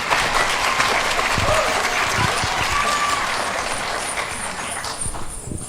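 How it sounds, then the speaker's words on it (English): Crowd applause at a Hmong New Year celebration fills the hall as a dense, steady wash of clapping for the full length, staying loud and slowly tapering near the end. "Let's give them a round of applause."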